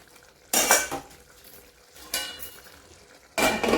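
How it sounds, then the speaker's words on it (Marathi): Metal lid set onto a pot of boiling matki curry, three sharp clanks spaced apart over a low background hiss, close and clear with no speech. "याच्या आपण झाकण ठेवूया"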